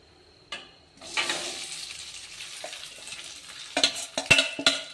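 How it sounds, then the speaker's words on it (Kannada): Cooked rice being stirred into chitranna masala frying in a pan, with a steady sizzle under scraping ladle strokes and a few sharp clinks against the pan near the end, with no talking. "ಇವಾಗ ಅನ್ನ ಮಿಕ್ಸ್ ಮಾಡ್ಕೋಣ."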